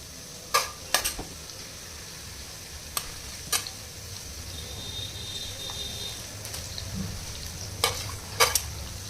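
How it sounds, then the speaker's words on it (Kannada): Onions fry in heated oil for a sprouted horse gram sambar, making a soft, steady sizzle, with several sharp clanks and scrapes of a spoon stirring the pan spread throughout, with no talking. "ಇವಾಗ ಎಣ್ಣೆ ಕಾದಿದೆ, ಈರುಳ್ಳಿನ ಫಸ್ಟು ಫ್ರೈ ಮಾಡ್ಕೋಬೇಕು."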